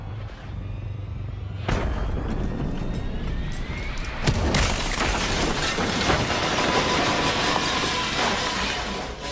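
A loud video-game plane crash: a booming explosion with a sharp impact, followed by sustained roaring rumble and debris noise, in Black Ops 3.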